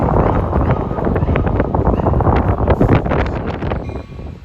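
A Port Jefferson rush hour train, number 668, passes at Jamaica in strong wind: a loud, steady broadband roar and rumble dominated by gusting wind buffeting the microphone, continuous throughout and easing slightly near the end.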